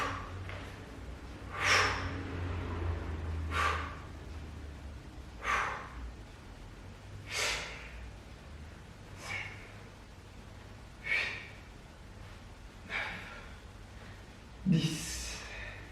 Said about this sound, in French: Je souffle et j'inspire la descente.